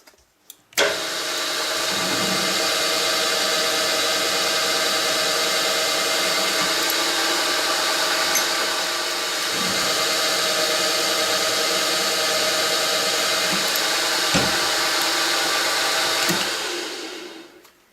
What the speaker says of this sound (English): now we will change to a counterboring tool, and give these bores a light counterbore